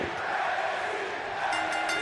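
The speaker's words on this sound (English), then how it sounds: "Match officially underway here as the crowd gets riled up" Wrestling arena crowd in WWE 2K23 during an NXT match, a dense steady roar of cheering and shouting that swells slightly near the end, with no talk over it.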